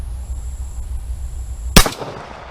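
A single sharp report from a .45 ACP 1911 pistol cracks out near the end after a stretch of quiet outdoor background, loud and close, with a short decaying tail.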